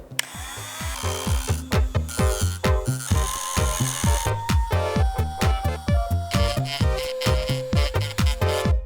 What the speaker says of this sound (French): Donc, Dremel.